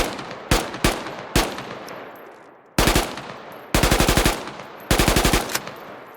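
Automatic rifle bursts in the Squad military shooter game: several single loud shots early, then a pause and three rapid full-auto bursts, close and sharp with a rolling echo tail.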